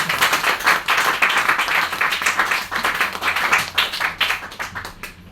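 Audience clapping at a DiabaLife product training session, a dense steady round of applause from a room of people lasting throughout, fairly close and loud with no talk over it.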